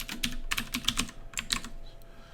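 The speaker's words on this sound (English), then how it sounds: "I'm going to just type in slicer options." Clicks of a computer keyboard during spreadsheet work, a few quick irregular clusters of keystrokes, close and fairly quiet.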